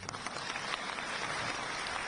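A large audience claps steadily in a hall during a Supreme Court-themed address by India's Law Minister, a continuous dense patter at moderate distance with no talking over it.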